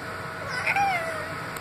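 A single drawn-out cat meow rises and falls, close and clear over a faint background hum.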